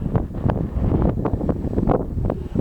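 Strong wind buffets the microphone outdoors in a steady, loud low rumble with gusty swells, no voices over it.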